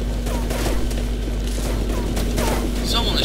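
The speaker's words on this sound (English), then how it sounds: "Someone is shooting at me." Bursts of gunfire in Nuclear Dawn crack over a steady low hum, with several scattered shots and faint voices in the mix.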